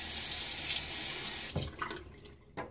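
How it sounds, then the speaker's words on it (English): Tap water runs steadily into a sink to rinse a Gillette Ranger Tech safety razor during a wet shave, a continuous close splash that breaks off about halfway, leaving a few scattered drips and clinks. "All right, rinse this off."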